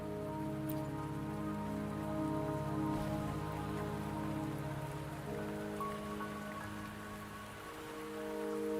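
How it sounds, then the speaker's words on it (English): Steady rain falls in the video game Wuthering Waves, a continuous even patter that holds throughout, with a sustained tonal background bed running beneath it and no voices. "Don't worry, the rain won't last much longer."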